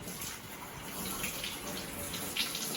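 Tap water running into a kettle on a kitchen stovetop, a steady hissing rush that continues at a soft, even level before cutting off abruptly at the end.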